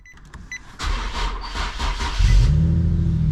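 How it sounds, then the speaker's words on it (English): A rare Nissan Skyline's engine cranks with a short whir, catches, then settles into a loud, steady idle close by. "I need to make sure that the engine starts and runs without any issues."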